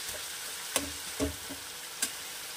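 Brinjal and egg being sautéed in a pan: a soft steady sizzle with a few spatula scrapes and stirring knocks, close by, no talk.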